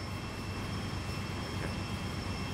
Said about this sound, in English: AC4400 CW locomotive.